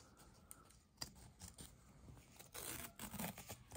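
Gerber Armbar Slimcut scissors snip and rub through material in a run of quiet, close scraping cuts with a few sharper clicks, no talk over them.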